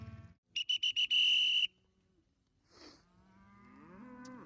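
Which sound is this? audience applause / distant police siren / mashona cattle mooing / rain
mashona cattle mooing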